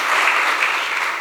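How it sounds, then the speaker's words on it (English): Brief burst of dense audience applause at an evening Guru Purnima gathering, loud and sustained across the whole moment with no talk over it. "Can we have a big round of applause?"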